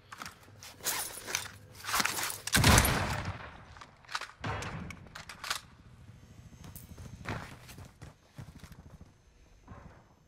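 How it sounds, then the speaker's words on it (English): Sniper gunfire in Call of Duty Warzone on Rebirth Island, several sharp cracks and bursts scattered among footsteps and movement noise, one loud shot standing out near the start, the rest fainter and intermittent. "I'm getting sniped"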